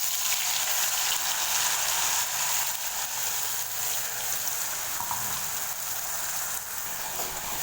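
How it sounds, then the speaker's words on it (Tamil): Onion paste sizzles and fries in hot oil with cinnamon, cloves and cardamom for a soya chunk curry, a steady close, bright hiss running without a break and with no talk. "பட்டை, கிராம்பு, ஏலக்காய் எண்ணெயில் பொரிஞ்சதுமே நம்ம அரைச்சி வச்சுருக்கிற இந்த வெங்காயம் விழுது அதை சேர்த்துக்கலாம்"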